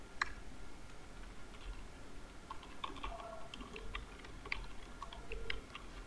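Typing on a computer keyboard: a string of light, irregular key clicks at close range over a quiet room background, with no talking.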